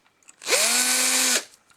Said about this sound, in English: We're actually just drilling the axle slots because it comes with a wire axle and we're putting a rod axle.